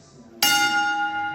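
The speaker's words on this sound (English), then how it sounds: "Mom's gonna ring the bell. Give us one good ding." A boxing ring bell at Muhammad Ali's Fighters Heaven training camp is struck once, a sudden bright ding that rings on with a long, sustained decay.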